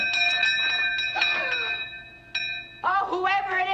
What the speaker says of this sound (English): And then the doorbell rang.